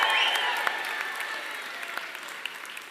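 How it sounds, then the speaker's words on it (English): Applause from a live audience at a Mayo Gaelic football supporters' event rises briefly, then thins into scattered claps that fade away. "round of applause"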